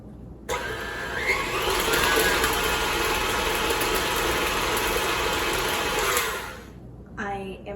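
An electric hand mixer beats an egg and yolk into brown sugar cookie dough, a steady loud whirring drone for about six seconds before it stops, with brief clatter afterward.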